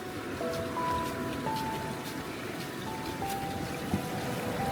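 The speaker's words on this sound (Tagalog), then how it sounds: "Ayan na yung dagat. Naamoy ko siya. Naririnig ko siya." Ocean surf at Mystic Beach on Vancouver Island, a steady broadband rush and wash of waves, with faint tonal whistles above it and no talking.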